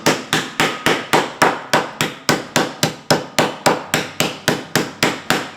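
A hammer crushes peppercorns in a plastic bag, about twenty sharp, evenly spaced blows in a steady rhythm, close and loud, with no talk.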